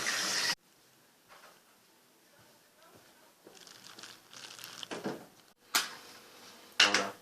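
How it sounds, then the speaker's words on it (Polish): Chestnuts being rinsed and rubbed in water, with bursts of running tap water, sloshing and clattering in a bowl at close range. "Myjemy kasztany."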